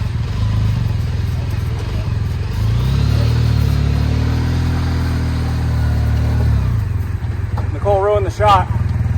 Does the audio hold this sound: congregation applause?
no